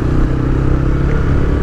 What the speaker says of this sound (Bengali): যে বাইক আসতেছে।